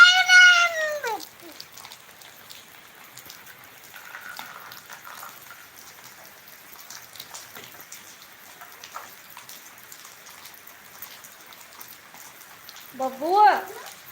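Soft, steady rain patters on a surface, with a cat meowing near the start and again near the end.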